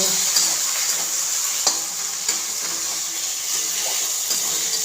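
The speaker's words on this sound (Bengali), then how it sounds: "তেল গরম হলে তেজপাতা দিয়েছি, শুকনো লঙ্কা দিয়েছি তেলে" Bay leaves and dried red chilies frying in hot mustard oil make a steady, close hiss dotted with occasional small pops and ticks, with no one talking.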